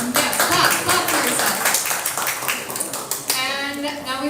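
An audience at an evening tech event in LA claps for itself, a burst of close, dense hand clapping that thins out toward the end while a voice talks over it.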